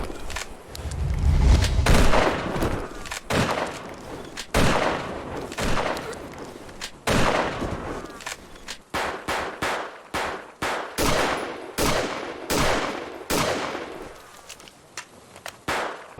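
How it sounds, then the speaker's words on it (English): Punchy gunfire in a retro boomer shooter video game: loud close shots, heavy booms and rapid bursts in irregular clusters with brief pauses between volleys, no voices. "The guns, as I've said like 500 times already, sound fantastic"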